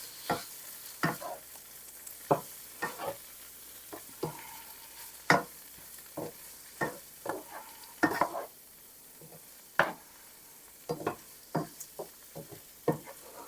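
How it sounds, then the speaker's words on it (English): Spaghetti pie sauce bubbles in a pan on the stove, a soft steady sizzle broken by a string of sharp utensil taps and scrapes against the pan at uneven intervals, close and with no one talking. "Let that simmer for just a little bit here."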